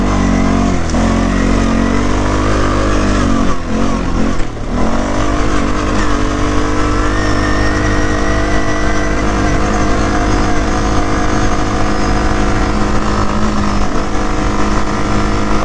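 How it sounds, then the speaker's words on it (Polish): Quad bike engine held at very high revs, a loud continuous close drone with a steady pitch and a brief dip partway through. "No i teraz wysokie obroty bardzo"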